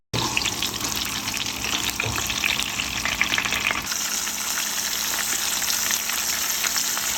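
Katla fish head fries in hot oil, a dense continuous crackle and sizzle close by that softens slightly partway through, with no talking.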